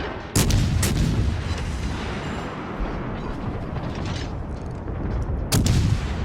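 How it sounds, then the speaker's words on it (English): A warship in World of Warships Legends fires high-explosive shells as a British cruiser, heavy booming salvos at the start and near the end over a dense, continuous rumble of battle. "I am going to try to overwhelm this guy with as many high explosive rounds as I can to try to start a fire"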